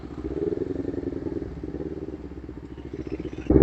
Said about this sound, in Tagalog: Kung maririnig niya yung motor ko.